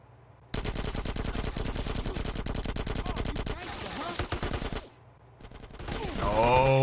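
Rapid automatic gunfire in Grand Theft Auto: San Andreas – The Definitive Edition, with sustained bursts of dense, loud shots that pause briefly and then start again, closing with more game sounds.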